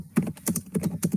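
Quick, close taps on a computer keyboard come in an uneven run of about six keystrokes, crisp and clear with no talking.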